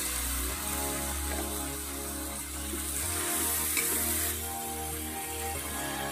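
Lote fish goes into a pan with green chillies and fries with a soft, continuous sizzle, a steady low hum underneath and a few faint clinks from the pan.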